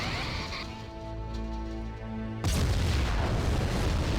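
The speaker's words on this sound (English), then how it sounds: "4 photonic torpedoes." Photon torpedo blasts in a Star Trek starship combat game: a humming engine drone with tonal hum gives way to a sudden loud booming explosion burst that rumbles on to the end.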